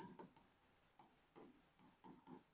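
A pen scratches out accounting entries on paper, in short, rhythmic strokes and pauses, close and quiet, with no talk.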